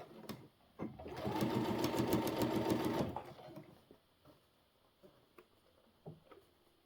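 A sewing machine stitches a seam on a pair of pants in one steady burst of about two seconds, then stops, leaving a few light clicks and handling sounds.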